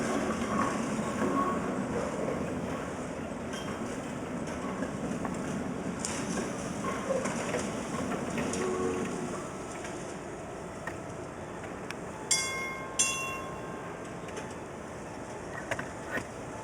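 A museum streetcar at the Baltimore Streetcar Museum rumbles steadily while turning left into the loop, a continuous rolling drone of wheels on track, with a few sharp squeals and clanks near the end.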